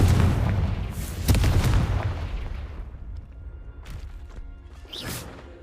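A Confringo spell explosion in the Hogwarts Legacy video game bursts with a booming blast that decays, followed by fainter pops and crackles.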